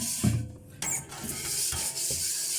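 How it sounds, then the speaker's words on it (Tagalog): A frying pan is cleaned in a home kitchen, with close metallic scraping and scrubbing strokes against the pan in uneven bursts and no one talking. "Maglilinis na ng kawali"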